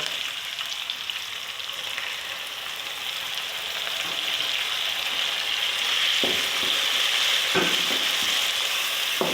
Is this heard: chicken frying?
yes